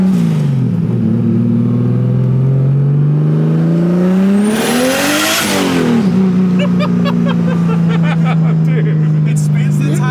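A turbocharged S52 engine in a BMW E36 revs hard under load, its loud roar climbing steeply in pitch, then dropping back and settling into a lower drone, with faint voices underneath.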